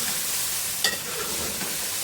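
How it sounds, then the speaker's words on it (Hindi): Chicken fries with ginger garlic paste in a pan, a steady close sizzle with a brief clatter of stirring midway, no talking. "इसको मैं अदरक लहसुन के साथ अच्छी तरह से भूनूंगी"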